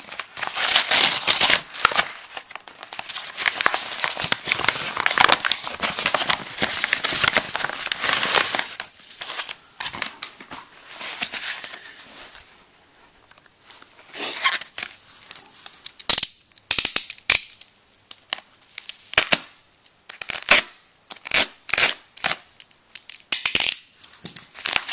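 Plastic packaging torn open by hand for a PS2 game puzzle item, long runs of loud close crinkling and ripping, then sharper intermittent crackles and snaps with short pauses between them.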